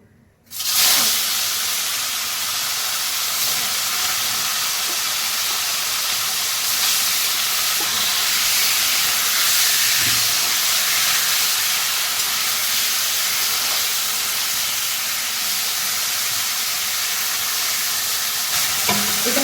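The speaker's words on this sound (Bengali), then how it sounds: "এরপরে আমি এই লোটা মাছটা হালকা করে ভেজে নেবো" Lote fish frying in mustard oil in a pan, a loud, dense and continuous hiss and sizzle that starts abruptly and holds steady throughout with faint stirring noises, no talk.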